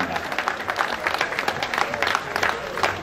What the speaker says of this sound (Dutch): Mag ik de hand op elkaar voor Joey van der Hey.